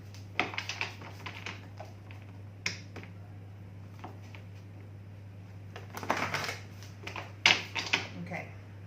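Holographic Mandala tarot cards being shuffled by hand, a series of soft crisp riffling clicks and taps in uneven bursts over a steady low electrical hum, fairly quiet, with brief soft vocal sounds among them.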